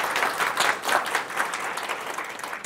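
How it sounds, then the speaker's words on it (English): Warm applause from a seated conference audience at a genealogy day session, a dense steady clapping filling the room for a few seconds with no talk over it. "please give Tina Beaird a warm round of applause"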